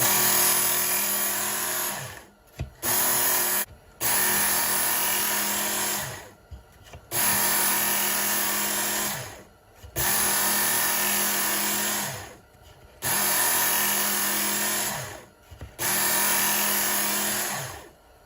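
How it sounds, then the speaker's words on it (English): A Work Sharp belt knife sharpener fitted with a medium belt whines steadily in several passes on a kitchen knife, each a few seconds long with brief pauses between, loud and close with no talk. "So now I've got the medium belt back on there. Let's make a few passes with it."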